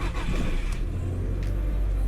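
An Audi A4 B7 engine cranks slowly, a low, rough churning rumble held up close for about two seconds with no sign of catching.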